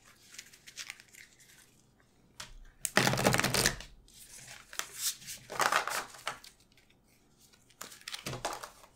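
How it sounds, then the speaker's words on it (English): A deck of tarot cards is shuffled up close in several separate bursts of crisp riffling and flapping, with quiet gaps between them. "I'm going to do an actual shuffle."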